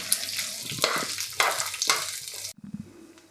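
Bitter gourd and curry leaves dry-roasting for chutney over a low flame, bursts of crackling sizzle with three or four stirring surges, then falling quiet apart from a few soft knocks.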